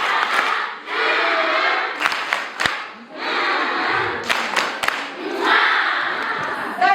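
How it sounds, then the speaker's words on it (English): A school audience of young voices cheers and shouts loudly during a mental health awareness session, with scattered claps and thumps breaking through the steady roar. "let's give her a better hand clap."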